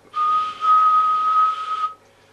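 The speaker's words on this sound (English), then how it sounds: "If I whistle," A person whistles a single sustained, steady note close into a microphone on an amplifier setup, loud and clear for about two seconds, with no talk.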